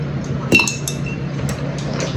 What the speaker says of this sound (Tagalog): Lagyan natin ng ice.